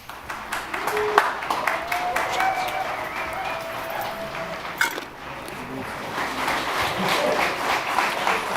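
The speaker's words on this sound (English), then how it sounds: "Hold off on the applause because we want to make sure that we get everybody in and out." Audience applause breaks out at a city commission meeting, a broad rumble of clapping with some cheering and a whistle-like tone, swelling again toward the end while murmuring voices mix in.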